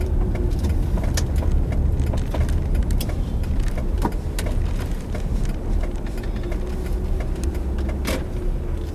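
A car driving and turning into a gas station parking lot, its steady engine and road rumble heard from inside the cabin with small rattles and clicks throughout.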